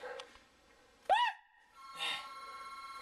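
A telephone rings indoors, a short warbling electronic trill followed by a second fainter burst, heard alone without talk.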